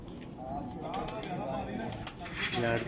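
An old breeder pigeon gives low rolling coos close by, partly masked by steady background noise and nearby human voices.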